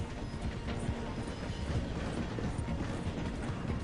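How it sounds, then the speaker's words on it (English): In the video game Red Dead Redemption 2, a train slowing down to pass through a station gives off a steady, loud mechanical rumble with faint rattling clatter throughout. "The train is slowing down to go through the station."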